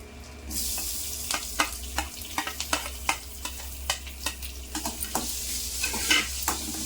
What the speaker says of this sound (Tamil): பெரி வதக்கி விட்டுக்கலாம் ரெண்டு வதக்கு வதக்கலாம்